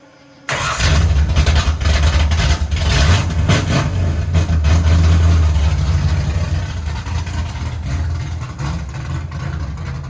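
A truck engine cranks and catches, then runs loud and steady at close range for several seconds, a deep rumbling idle that eases slightly as it settles, with no talk over it.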